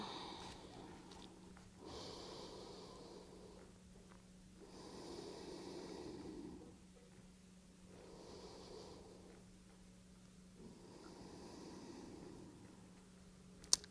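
Slow, deep breathing during a Pilates exercise, long airy inhales and exhales in a steady rhythm of about four breaths, soft and close, over a faint constant hum, with no talking.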